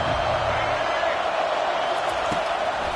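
A stadium crowd in a football video game roars as a steady, dense wash of noise behind the defense on third down.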